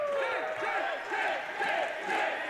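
Wrestling fans cheer and roar for Jake the Snake Roberts, a steady wall of crowd noise with rising shouts and chanting, heard from within a packed arena throughout.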